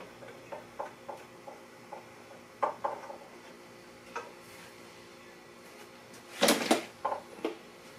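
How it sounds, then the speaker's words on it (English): Small ticks and clicks as an F clamp is loosened on a cherry wood shelf, ending in a louder clatter and rattle near the end. The sounds are close and fairly quiet, with no talking. "Now I can remove this F clamp."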